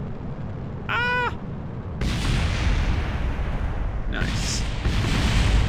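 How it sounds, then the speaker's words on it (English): Fireworks burst in Kerbal Space Program, with a short whistling rise followed by loud sustained crackling explosions in two waves. A voice speaks briefly over the noise. "Fireworks are fun once in a while."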